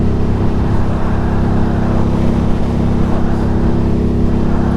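Indian FTR 1200 motorcycle fitted with a new carbon exhaust, a steady loud engine drone with continuous wind rush while riding, no talking.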